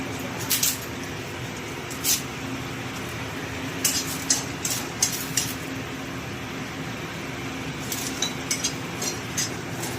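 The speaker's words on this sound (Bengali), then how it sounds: "খিচুড়িটা কষাচ্ছি, খিচুড়ির চালটা কষাচ্ছি, চাল ডাল কষাচ্ছি" Rice and lentils for bhuna khichuri are stirred in a pan with bay leaves, giving a steady low rumble with scattered metallic scrapes and clinks of a spoon against the pot, no voices.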